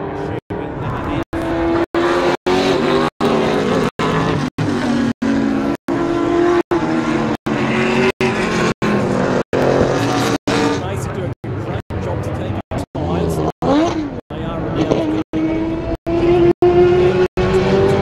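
Race cars at the NSW Motor Racing Championships, braking and powering down into turns one and two, engines roaring loudly and continuously at close range, with pitch rising and falling through the corners under a commentator's voice.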